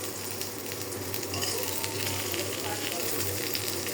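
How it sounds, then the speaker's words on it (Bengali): Eggplant slices frying in a pan, a steady broadband sizzle that stays close and even throughout, with no talking over it. "এদিকে বেগুন ভাজা বসাই দিলাম।"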